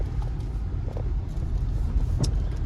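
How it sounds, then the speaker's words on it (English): A car rolls slowly into a home driveway, its low engine rumble steady and close, with a brief faint jingle partway through and no talking. "and into the driveway we go"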